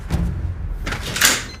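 An apartment door opens as a woman heads out, producing a soft thud followed by a brief rattling scrape and a brighter latch click near the end, fairly close and with no speech over it.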